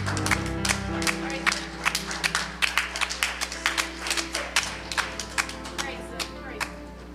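A worship service congregation claps in praise, a steady run of sharp hand claps over a sustained organ or keyboard chord, fairly close and moderately loud, with some voices mixed in.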